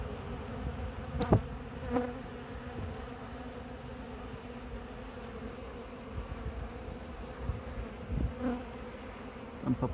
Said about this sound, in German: Die Bienen kämpfen.